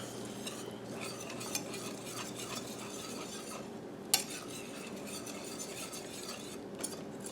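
Sausage grease and flour roux stirred in a pot for clam chowder, a steady low sizzle with continuous scraping of a spoon against the pot and one or two light clinks, close and fairly quiet.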